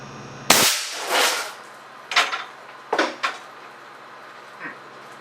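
An air cannon fires at 350 psi into a bathroom sink bowl: a sharp bang, then a rattling clatter and several scattered knocks of debris and fragments settling, with short pauses between.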